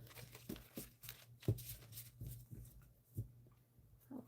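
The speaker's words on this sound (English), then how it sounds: "Now I'm shuffling in those reversals." A tarot card deck being shuffled by hand, giving a run of crisp, papery riffling and slapping bursts at an irregular rhythm, close and fairly quiet, over a low steady hum.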